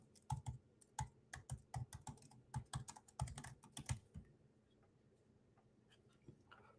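Rapid keystrokes on a computer keyboard, close and quiet, in irregular bursts of clicks that thin out toward the end.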